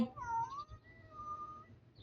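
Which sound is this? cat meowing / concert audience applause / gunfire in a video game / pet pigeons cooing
cat meowing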